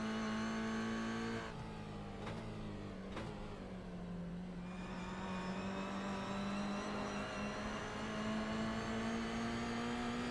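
Race car engine in a sim racing game, a GR Cup car, holds a loud sustained high-pitched drone that dips around a shift or lift and then climbs steadily under throttle.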